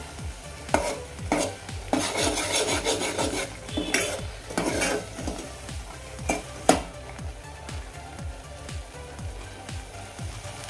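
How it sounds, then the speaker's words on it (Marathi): Onion and coconut masala being stirred in oil in a pan for golyachi aamti, with a soft steady sizzle under repeated scraping strokes of a spoon against the pan, close by. "व्यवस्थित असं फ्राय करून घेऊया"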